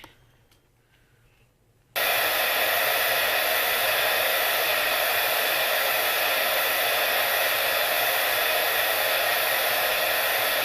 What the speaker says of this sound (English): So I'm gonna take this blow dryer on cool.